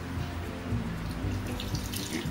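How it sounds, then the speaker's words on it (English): Water runs from a tap and splashes onto fresh chhena curds in a cloth for making Bengali rasgulla, a steady close gushing stream with some sloshing and no talking. "Now add some water."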